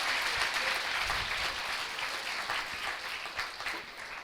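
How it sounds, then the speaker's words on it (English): An audience at the closing of a Nation Building Conclave on healthcare for young India gives a sustained round of applause, full and steady clapping that eases slightly toward the end. "Can we all put a huge round of applause as we come to the end of it?"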